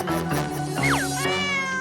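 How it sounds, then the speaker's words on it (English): A small cat meows in a short series of close, clear calls, the last one rising into a longer drawn-out meow. "Aw, what a nice kitty."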